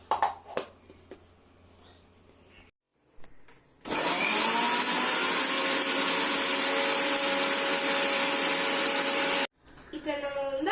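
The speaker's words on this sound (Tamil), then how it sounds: "இப்போ நம்ம வந்து எல்லாத்தையும் போட்டு அரைக்க போறோம்." An electric mixer grinder pulverises tomato, ginger, dried chili and garlic for a homemade pizza sauce, its motor roaring loud and steady for several seconds after a few brief clicks and pauses, then cutting off abruptly.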